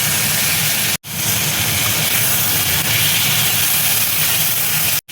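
Garlic paste and turmeric hit hot oil in a pan for a Bengali mixed prawn and vegetable curry, giving a loud, steady, close sizzle with two brief breaks.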